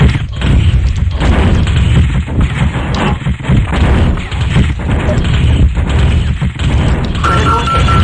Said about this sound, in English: Critical hit. Internal ammo explosion detected.